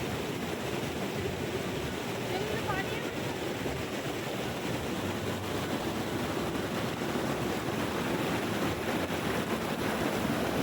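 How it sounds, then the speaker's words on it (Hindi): A cold mountain stream near Badrinath rushes and gurgles in a steady, dense wash of water noise that stays loud and unbroken throughout, with no clear talking. "आप लोग जो ये पानी की खल-खल करने की आवाज सुन रहे हैं ना"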